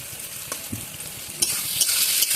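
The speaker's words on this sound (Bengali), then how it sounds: "অনবরত নাড়তে থাকবে যাতে নিচে থেকে মশলা না লেগে যায়।" Spiced pointed gourd and potato curry stirred in a pan, a steady soft sizzle of frying with scraping spoon strokes and a few sharper clinks, close and continuous, no talking.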